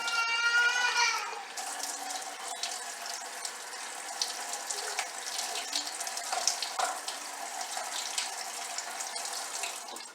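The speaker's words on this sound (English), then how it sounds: "go ahead and fill yourself up 2/3 cup of water" Tap water running into a measuring cup while cooking rice, a steady splashing stream that fills continuously for several seconds, close by and fairly loud, with no talk over it.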